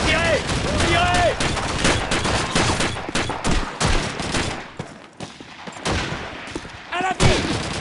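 Gunfire from the Call of Duty 2 video game: dense bursts of rifle and machine-gun shots crackle through the battle, while voices shout over the shooting.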